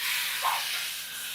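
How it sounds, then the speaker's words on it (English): Steady hissing sizzle of meat frying in a pan, broad and continuous, with a brief brighter flare partway through. "Ooh, that sizzle."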